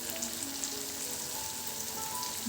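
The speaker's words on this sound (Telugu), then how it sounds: "ఒక 5 సెకండ్లు ఫ్రై చేసుకుంటే సరిపోతుంది" Spices such as turmeric and chili powder fry in hot oil for a fish curry, giving a dense, continuous sizzle that stays even and close throughout.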